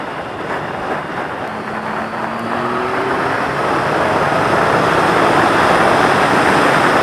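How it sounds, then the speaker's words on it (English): An Audi car overtaking on the road, a steady broad roar of engine and tyre noise that swells gradually louder as it draws alongside, with no voices. "Audi's going to end up overtaking in a second, I reckon."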